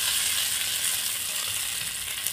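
Hot mustard-seed and cumin tempering poured into coconut chutney: a bright, steady, close sizzle hissing continuously, with no voices over it.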